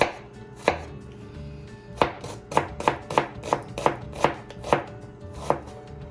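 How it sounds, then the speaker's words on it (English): A knife finely minces an onion on a cutting board in a run of about a dozen crisp, close chops, some in quick clusters and others spaced apart, with no talking. "Nice and fine mince on your onion."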